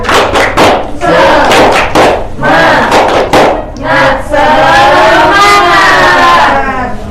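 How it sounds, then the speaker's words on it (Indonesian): A first-grade class of children in an Indonesian primary school performs a loud, rhythmic clap-and-shout spirit chant in unison, with bursts of claps and voices followed by a sustained group shout. "mari kita melakukan tepuk semangat terlebih dahulu supaya kita tambah semangat"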